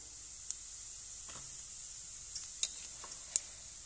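Cumin seeds dropped into hot oil for desi-style fried rice give off a faint, steady sizzle, with a few small sharp pops and crackles scattered through it and no talking.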